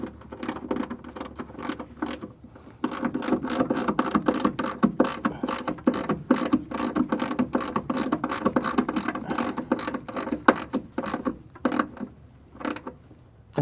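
Ratchet wrench tightening a bracket on the undercarriage of a 1965 Ford Mustang, a fast, continuous run of close metallic clicks with brief pauses between strokes.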